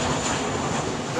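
A Delta Airlines plane flies overhead above a church parish in Barbados, a loud, steady broadband jet roar filling the whole short stretch with no pause.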